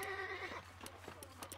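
A horse whinnies in the Red Dead Redemption video game, a drawn-out tonal neigh in the first half second that fades into scattered faint clicks and thumps, with no talk.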